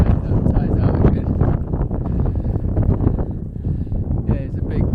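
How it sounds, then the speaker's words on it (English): Strong coastal wind at a shoreline buffets the microphone in a continuous roar, with a voice talking faintly underneath. "But yeah, pretty windy."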